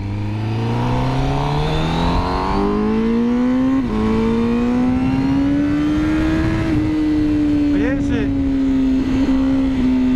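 A Honda CBR1000RR-R SP 2020 superbike engine revs with rising, climbing tones and a brief gear change, loud and close, while someone speaks briefly over it.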